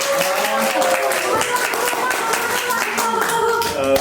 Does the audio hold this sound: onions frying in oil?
no